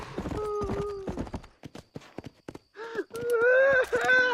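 Undead horse galloping in the video game Red Dead Redemption: Undead Nightmare, a quick run of hoofbeats followed by a shrill, drawn-out whinny, close and loud, with game voices breaking in between.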